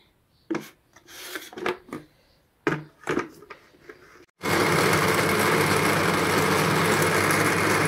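An electric grinder whirs loudly and steadily as it grinds food with a little cooking oil, preceded by several clattering knocks and handling sounds before the motor starts.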